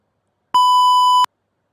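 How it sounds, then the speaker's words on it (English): A single clean electronic beep, steady and tonal, lasting under a second against silence. "I'll give you another audible beep when you can stop"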